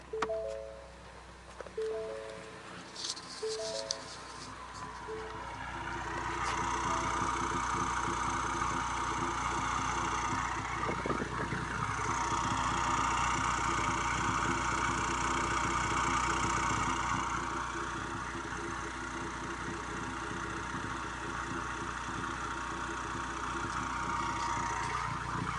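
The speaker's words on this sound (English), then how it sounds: "let's go ahead and hear it while it's idling" A turbocharged car with a catless downpipe idles steadily and fairly loudly, a continuous low rumble with a raspy mechanical edge and no talk, holding a constant level after a brief uneven start.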